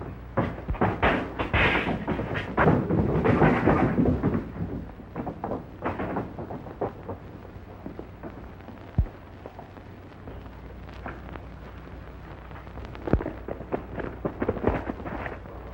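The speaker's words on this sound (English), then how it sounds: "Sounds like an explosion." An explosion at the express office in a western film: a heavy burst with crashing debris in the first few seconds, followed by scattered bangs and clatter that trail off, with no talk.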